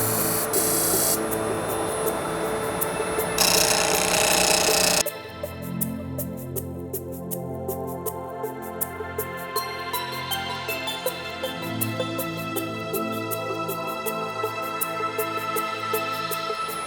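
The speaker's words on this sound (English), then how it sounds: "I am gonna have a go at cutting a cove to begin with, and then I'll have a go at cutting a bead" A wood lathe turns while a gouge cuts a cove. A harsh, hissing scrape of cutting fills the first few seconds, then a steadier whirring hum of the spinning workpiece carries on, close and fairly loud.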